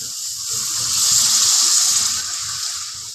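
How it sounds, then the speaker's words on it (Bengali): Water poured into a pan of hot fried masala gives a broad rushing hiss that swells and then eases, close and loud with no talk. "এবারে ভেতরে আমি জল দিয়ে দেবো"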